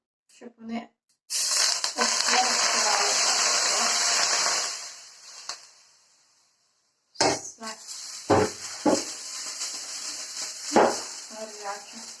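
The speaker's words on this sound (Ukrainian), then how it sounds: "Олію лию на спеції." Hot oil poured onto spices for a Korean-style cucumber salad hits with a loud, hissing sizzle lasting a few seconds. After a pause, quieter sizzling resumes beneath a person talking.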